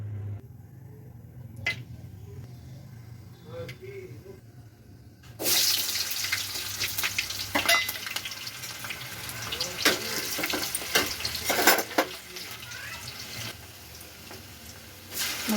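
Oil goes into a pan for an Odia-style chicken curry, quiet at first and then breaking into loud, crackling frying and sizzling with sharp spits and bursts, a voice briefly speaking early on.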